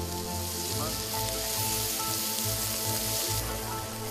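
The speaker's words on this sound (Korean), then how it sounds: "지글지글 구워지는 한우." Korean hanwoo beef sizzles steadily on a restaurant grill, a dense, continuous crackling hiss that stays loud and close throughout, with a low background hum and no talking.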